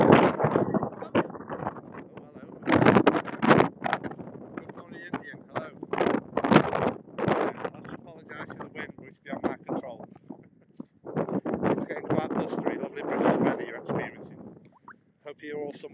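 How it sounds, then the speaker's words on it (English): Gusty wind buffets the microphone on a January walk in a forest park, rough irregular rumbling bursts rising and falling throughout while a person talks intermittently. "Yeah, it's getting quite windy now."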